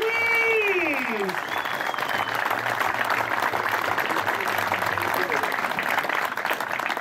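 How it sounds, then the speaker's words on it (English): Audience applause for the winners of a BBT tournament of champions, a steady dense clapping from a crowd that holds loud and even throughout, with a voice briefly heard over the start. "Ladies and gentlemen, give them a round of applause if you would, please."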